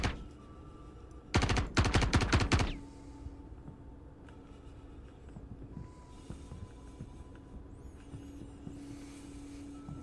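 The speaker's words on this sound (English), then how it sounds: "What if I shoot this fuse?" A rapid burst of automatic gunfire in Star Citizen, about a second of close, loud shots fired at a fuse inside a ship, followed by a low steady hum and faint interior ambience.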